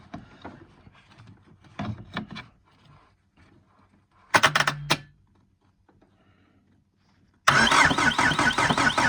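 A few scattered clicks and a brief cranking, then a 2001 Citroen Jumpy DW8 diesel van engine catches and roars into a loud, steady run near the end, after fuel injection pump replacement.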